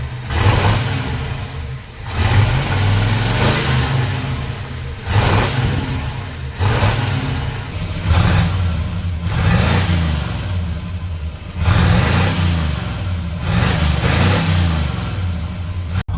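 A car engine revs repeatedly through a budget aftermarket exhaust, deep throaty bursts rising and falling every couple of seconds, loud and close with a steady idle between.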